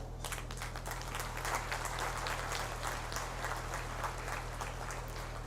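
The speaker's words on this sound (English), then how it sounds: "So if you can give one big round of applause." Steady, dense clapping from a large student audience at an engineering college orientation programme, heard at a distance and fairly faint over a low hum, with no talking.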